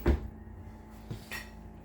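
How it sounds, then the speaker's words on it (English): Self-closing drawer in a 2022 Forest River Sierra 3440BH fifth wheel trailer: a firm thump as it shuts near the start, then a softer second knock a second later, close and quiet otherwise. "Them drawers are self-closing."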